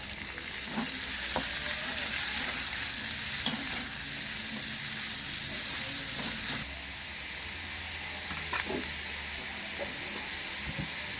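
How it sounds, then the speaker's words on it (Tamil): Onions sauté in a pan until brown for pepper chicken, a steady close sizzle and hiss with occasional scrapes and taps of a stirring spoon, and no voices. "வெங்காயம் ஆட் பண்ணிட்டு நல்லா ப்ரௌன் ஆகிற வரைக்கும் வதக்கிக்கலாம்"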